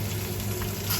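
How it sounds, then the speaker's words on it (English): Chopped onion sizzles in hot frying oil in a pan for a lamb tajine, a continuous close crackling hiss with no voices over it. "I'm going to take this onion now and put it in the oil. And that's starting to sizzle."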